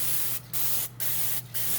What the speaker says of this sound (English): we're going to spray it with that olive oil cooking spray